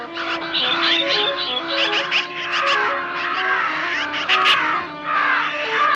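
Many birds calling at once, loud overlapping harsh cries and squawks in a continuous agitated chorus.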